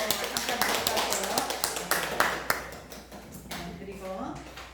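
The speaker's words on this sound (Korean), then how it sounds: "우리 그냥 박수로 환영하는 박수를 쳐주시면서" A church congregation at a deacon and kwonsa installation service claps in welcome, a burst of many hands that is dense at first and then thins out and fades, with voices mixed in.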